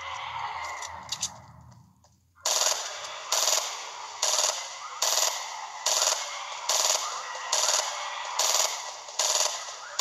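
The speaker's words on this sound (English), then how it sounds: "We're hearing gunfire." Gunfire in the video game Fortnite, a steady run of loud, evenly spaced bursts roughly every second that follows a short quieter stretch.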